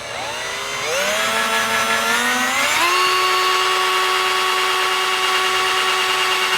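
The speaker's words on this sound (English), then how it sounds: "It's a terrible angle to drill." An electric drill bores a pilot hole for an oil catch can on a 2015 Subaru WRX, spinning up with a rising whine and then holding a steady, close, continuous buzz with no talk.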